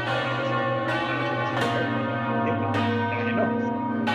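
Church bells rung by hand in the Ribera del Duero clang repeatedly in an irregular rhythm, loud and close, with a sustained ringing drone beneath each strike.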